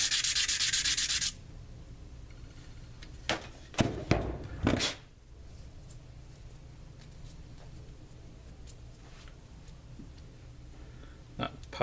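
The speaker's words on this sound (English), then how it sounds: "the easiest way is probably just sand them down flat" Parts for a dual-18650 DNA 200 vape mod are sanded flat, giving a loud steady rasp for the first second. Brief scraping strokes follow, then quiet handling.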